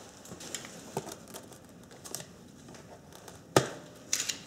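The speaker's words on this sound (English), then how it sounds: "I'm just going to cut the hose." A brittle, rusted engine hose is cut, giving faint crinkling and snipping close up, with a few sharper crunching snaps near the end.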